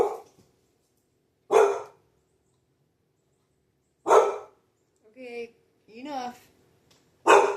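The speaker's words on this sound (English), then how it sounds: "Sorry for the barking." A dog barks in three loud, separate bursts spaced a few seconds apart, with a person speaking briefly between them.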